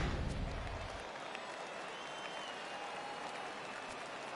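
Home crowd cheering and applauding in the baseball video game MLB The Show 18 at a Double A Cardinals game, a steady, broad wash of crowd noise that holds evenly throughout with a low rumble at the start.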